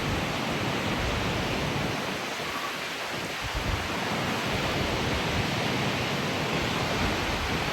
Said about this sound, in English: Ah, look at that waterfall.